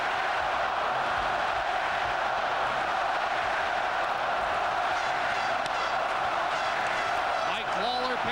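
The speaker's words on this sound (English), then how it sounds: "Listen to this crowd." A hockey arena crowd in a 1992 Winnipeg versus Vancouver playoff game roars in a dense, sustained wash of cheering and noise, loud and continuous throughout, with a broadcast voice briefly audible near the end.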